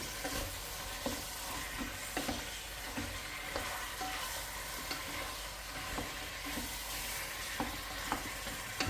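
A frying dish with preserved lemon, in a Moroccan-style preparation, gets stirred in the pan. Steady sizzle runs throughout, with regular scraping strokes of the spoon about once a second, close and clear, with no talking.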